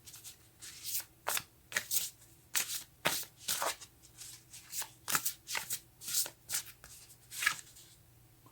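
A deck of tarot cards is shuffled by hand, a close, quiet run of repeated riffling bursts in an uneven rhythm, with no talk.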